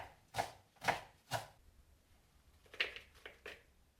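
Garlic mustard leaves sliced with a knife on a board, about five soft, distinct cuts in two short bursts with a pause between, quiet and close, no talking.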